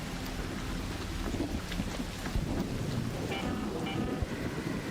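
An electromagnetic storm raging over topside in a video game, heard as continuous loud rumbling wind and rain-like noise with low thunder-like bursts, steady throughout without speech.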